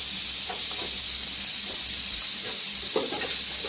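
Ground masala paste hits onions already frying in a pan, giving a steady, close hissing sizzle that stays even throughout with faint stirring clicks.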